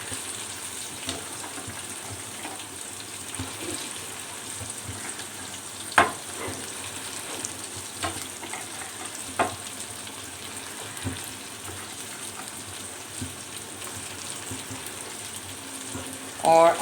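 Okra added to golden-brown onions frying in a pan, giving a steady low sizzle throughout with occasional stirring clicks and taps, a louder knock right at the end.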